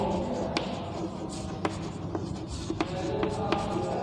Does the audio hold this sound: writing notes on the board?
yes